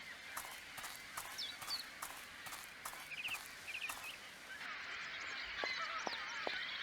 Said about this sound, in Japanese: いやー、鳥が騒がしいぜ。